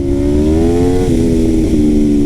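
A loud, steady Aprilia RSV4 sport motorcycle engine drones close up, its pitch dipping slightly partway through as it shifts.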